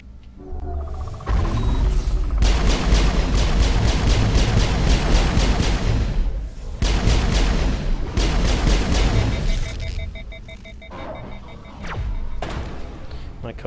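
Rocket fire and explosions in the video game Mass Effect come as long, loud roaring blasts in two heavy waves with a short gap between them, then fade into quieter rumbling.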